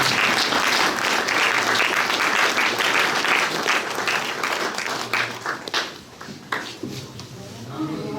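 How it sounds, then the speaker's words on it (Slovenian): A crowd at a Trebnje beekeeping society's ceremonial banner blessing breaks into loud, dense applause that holds strong, then thins and tapers off toward the end as voices come through. "En aplavz."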